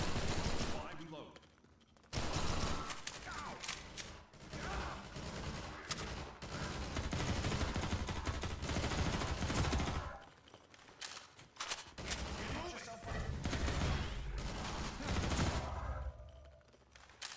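Sustained gunfire in Half-Life 2 MMod, with dense bursts of automatic weapon shots and explosions filling most of the stretch, briefly dropping away near the start and around the middle before resuming loudly.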